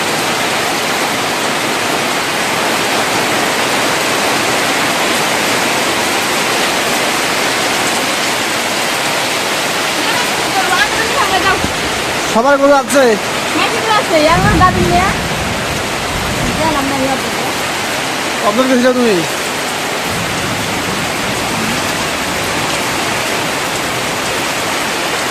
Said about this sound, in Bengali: বৃষ্টি পড়তেছে না বেশি?